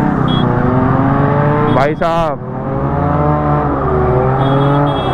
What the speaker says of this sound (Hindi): बर्नआउट देखो गाड़ी वाले का